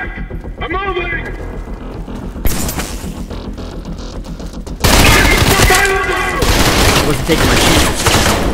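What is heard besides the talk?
gunfire in the video game Trepang2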